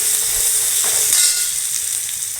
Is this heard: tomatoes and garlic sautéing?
yes